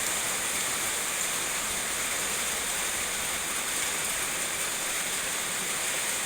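Steady rain falling during a car wash outdoors, a dense even hiss that holds constant and moderately loud throughout, with no voices.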